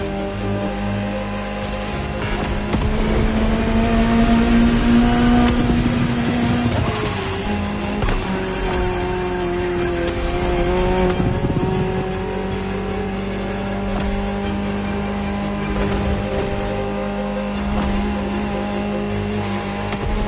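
A Ferrari supercar engine revs loudly and continuously while driving, its pitch climbing and falling through gear changes, close and alone without talk for about twenty seconds.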